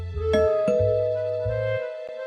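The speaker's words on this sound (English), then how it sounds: "Hearing the bell, Zach got his wallet and hurried to answer," A doorbell rings in an animated Christmas story, two bright chime tones struck in succession with a lingering ringing tail and a faint low hum beneath, heard alone without talk.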